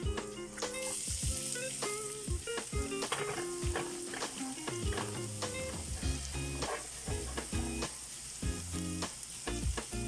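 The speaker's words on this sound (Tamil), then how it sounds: "ஸோ வெங்காயம் சேர்த்ததுக்கு அப்புறமா நல்லா நம்ம கொஞ்சம் கிண்டி விட்டுக்கலாம்" Chopped onions and chillies fry in oil for egg fried rice, with a dense continuous crackling sizzle and frequent spatula scrapes and knocks against the pan, close and steady with no voice over it.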